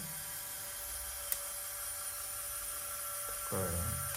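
A Lego Technic Airbus H175 rescue helicopter model's electric motor runs its landing gear, giving a steady, thin mechanical whine throughout that briefly swells and shifts in pitch near the end, with no talking.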